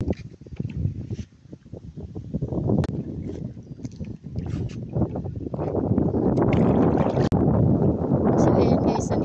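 Steady broadband rumble of a bangka, a small Filipino boat, moving over water, with wind buffeting the microphone and voices talking faintly underneath.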